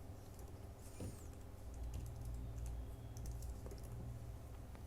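Soft, rapid typing on a computer keyboard while writing code, a light patter of keys over a constant low electrical hum, fairly faint and close with no talking.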